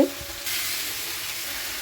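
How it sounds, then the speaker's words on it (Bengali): Chili and tomato fry in a pan with cumin-coriander paste: a short, close sizzle that starts with a brief clatter, then swells into a steady hiss. "লঙ্কা টমেটোটা দিয়ে একটু ভাজা ভাজা করে দিচ্ছি এবার দিয়ে দেবো জিরে ধনে বাটা"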